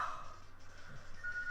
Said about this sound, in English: that's my phone going off too